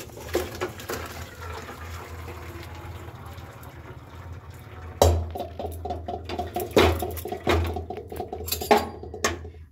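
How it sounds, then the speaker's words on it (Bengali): Water draining from boiled taro leaves, first a steady pour and then a run of splashes and clattering pot knocks that grow more irregular, near and fairly loud, with no talking. "কচু শাক সিদ্ধ হয়ে গেছে, এখন জলটা ঝরিয়ে নেব।"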